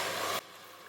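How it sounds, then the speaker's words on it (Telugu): Onion paste dropped into hot oil in a pressure cooker gives a loud, broadband sizzle for under half a second, then falls off abruptly to a faint low hiss. "నూనె అయితే కాగింది ఇందులో మనం ఉల్లిపాయ ముద్ద చేసుకున్నాం కదండి అది వేసుకుందాం"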